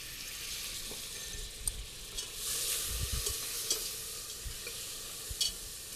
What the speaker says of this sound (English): So I've taken this butter and I've mixed it with that olive oil